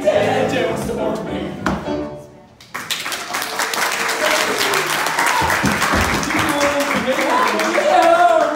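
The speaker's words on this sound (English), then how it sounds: "Miss Betty, you got yourself an applause" An audience breaks into loud, sustained applause at a live show. A short burst of voice and tones comes first, then dense clapping fills the rest of the clip.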